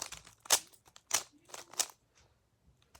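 A Rubik's cube being shuffled by hand: three or four quick, crisp plastic clicking twists, close and distinct, followed by near silence.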